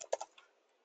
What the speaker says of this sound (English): I can type in Home